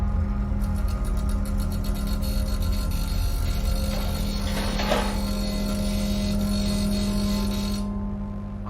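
A late-1980s Frigidaire refrigerator motor drones with a steady low electrical hum, close and constant, with faint mechanical rattling and clicks over it before it eases off at the end.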